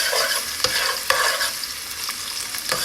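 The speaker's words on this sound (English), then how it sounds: "And I'll just keep stirring it." Red onions cooking down in a pot for jollof rice, a bright continuous sizzle with sharp spoon scrapes and clicks at irregular intervals as they are stirred, close and with no talk.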